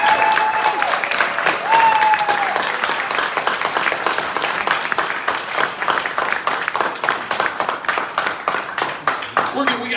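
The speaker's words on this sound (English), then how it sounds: "So can you just give the entire jazz band another round of applause" An audience at a high school jazz band's evening jazz social applauds the band with a dense, steady wash of clapping that holds for the whole stretch, with faint tones from the stage near the start.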